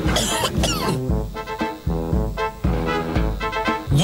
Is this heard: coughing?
yes